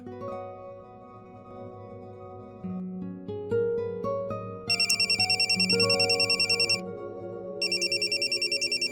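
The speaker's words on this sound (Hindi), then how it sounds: "रुचिता रुक जा, फोन मैं देख लेती हूँ" A phone ringtone plays in repeated electronic bursts, loud and close, over a melodic background tune, with a short pause before ringing resumes.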